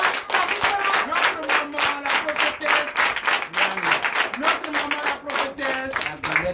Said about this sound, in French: Donc je vous demande d'applaudir très fort.